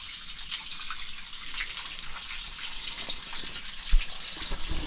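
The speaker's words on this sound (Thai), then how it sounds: "แต่น้ำไหลเบาอยู่นะครับ" Water runs softly and steadily inside a cave, a gentle trickle with faint splashes, quiet and close with no one talking.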